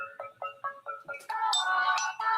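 An incoming call's ringtone plays a repeating synthetic melody, steady pulsing notes that swell into a fuller, brighter pattern, moderately loud with no talking over it.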